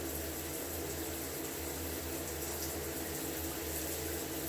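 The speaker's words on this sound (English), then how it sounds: "So I'm just going to take my hot water and I'll pour it into my cup" Hot water pours steadily into a cup, a continuous close rushing and splashing stream that holds at an even level throughout with no talk.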